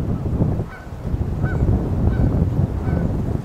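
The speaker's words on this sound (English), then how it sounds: "sounds like waxwings actually, the little sound that they're making." Thin, high calls of Bohemian waxwings repeat several times at a distance over a constant low rumble of background noise.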